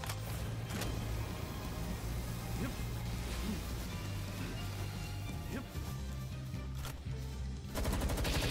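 Sustained rapid gunfire in a video game, a loud continuous rattle of automatic shots aimed at a bug, running steadily from start to end with no pauses.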